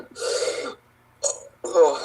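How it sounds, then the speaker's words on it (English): A man burps during a podcast conversation, a loud voiced belch followed by two shorter throaty bursts, close to the microphone with no other talk over it. "Have to burp."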